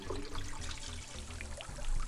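Water trickling from a hose in a children's video game, a steady close splashing pour that runs continuously without pause.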